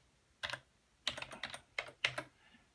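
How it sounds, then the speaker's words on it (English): Keys clatter on a keyboard while typing into a Raspberry Pi terminal, a few short bursts of quick clicking separated by brief pauses, close and clear in a quiet room. "So there's terminal, so I can type Python"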